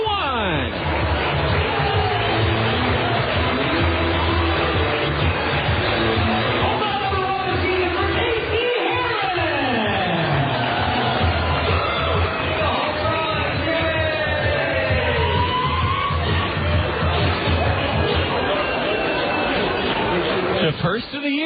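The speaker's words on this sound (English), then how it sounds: "it brings this big crowd alive" A large minor-league baseball crowd at a Clinton LumberKings home game roars and yells after a two-run homer, sustained loud cheering and babble filling the whole stretch, with a commentator talking over it.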